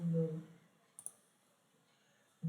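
A computer mouse clicks the create button in a cloud console: a quick double click, crisp and close, set between stretches of a man's speech in a quiet room.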